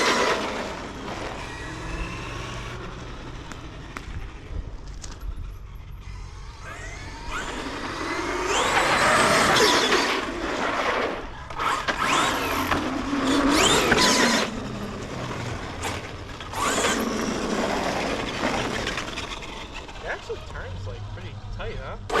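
A fifth-scale 8S RC truck drives and brakes: surges of electric motor whine and mechanical drivetrain noise rise and fall in several loud bursts, with people chatting over and between them.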